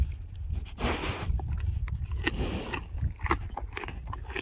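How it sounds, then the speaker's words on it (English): A horse crunches and chews treats close by on a farm, giving soft, irregular munching and biting sounds with occasional shuffling, fairly quiet and with no talking. "You gotta chew quieter."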